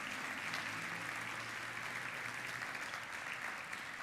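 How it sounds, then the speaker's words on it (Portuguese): A church congregation at a communion service bursts into sustained applause, a dense, steady wash of many hands clapping at once, heard without any voice over it. "dá um aplauso para Jesus aí de coração"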